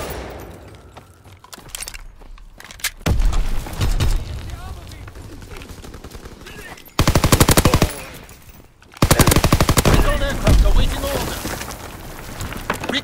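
Rapid machine gun bursts ring out in a video game battle, loud and close, in several long volleys broken by short pauses, with booming impacts and game voice lines mixed in.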